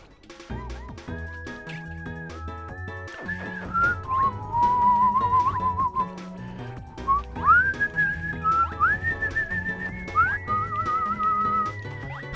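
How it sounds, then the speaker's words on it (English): A whistled melody rises and falls over a bouncy electronic backing track, with sustained notes and quick slides, clear and prominent throughout. "It's weird how it's like the music sounds like someone whistling."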